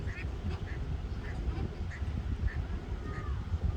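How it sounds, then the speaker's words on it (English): Ducks by warm shallow water quack in a steady, evenly spaced series of short calls, a little distant, over constant rumbling outdoor background noise. "Look at the ducks. You hear them?"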